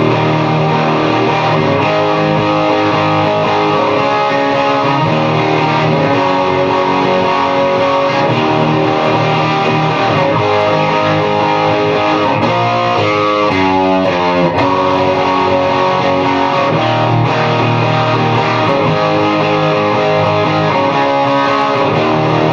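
A distorted electric guitar plays the chorus of a song, a thick, loud chord progression sustained without a break, with a short run of single notes partway through.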